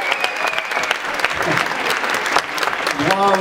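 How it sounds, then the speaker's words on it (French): Concert audience clapping for a band of bass, drums and guitar, steady applause throughout with a few shouts, and a short voice or tone near the end. "On peut les applaudir bien fort"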